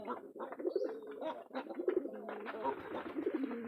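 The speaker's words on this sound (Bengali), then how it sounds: "এই দেখেন আমার কবুতর খামারে এই নতুনভাবে অনেকগুলো ডিম দিচ্ছে" Pigeons coo continuously at a pigeon farm, several birds overlapping in steady rolling calls at close range, with occasional soft chirps mixed in.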